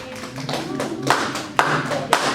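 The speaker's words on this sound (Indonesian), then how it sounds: "Tepuk tangannya untuk kelompok 2" Classroom clapping for a student group in a class XI lesson: a few scattered hand claps and taps from a small group, uneven and fairly close, with some brief sharp claps standing out and faint murmuring beneath.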